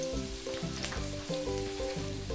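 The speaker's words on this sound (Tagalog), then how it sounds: "Sunod ay igigisa ko na ang bawang, sibuyas," Garlic and onion sizzle steadily in a hot pan of oil for an egg curry, a continuous close frying hiss broken by light stirring scrapes, with no talk over it.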